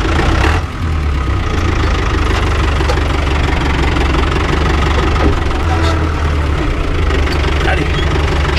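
An engine runs steadily just after starting, with a loud, continuous low rumble and a rough, knocking texture at close range. The setting is a water drainage trench being dug.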